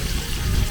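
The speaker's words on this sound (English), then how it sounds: "a little bit of water now" Water pours into a potjie pot holding potatoes and sweet potatoes, a short, steady rushing splash at moderate volume with no talking.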